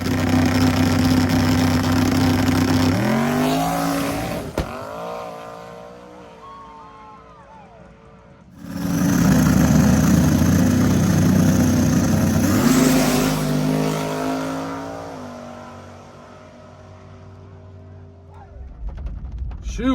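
Small-tire race cars rolling down a grassroots track, engines droning loud and close, rising and falling as they pass, with a brief quieter gap midway and a voice talking over parts of it.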